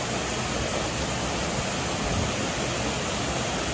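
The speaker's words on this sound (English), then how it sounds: "Nice waterfall here." A waterfall at the Silver Dollar City theme park rushes with a steady, dense roar of falling water, loud and unbroken throughout.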